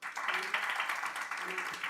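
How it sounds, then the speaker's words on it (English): An audience at a child-protection workshop applauds in a brief, moderately loud burst of clapping, with some talk mixed in. "Another round of applause for him."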